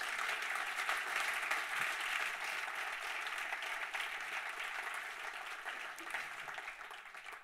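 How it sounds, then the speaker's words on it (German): An audience at the OER-Award 2016 opening applauds the event's sponsors with steady, fairly distant clapping throughout, an even wash of many hands at moderate loudness. "noch einen Applaus bitte nochmal für diese 40 Träger dieser Veranstaltung"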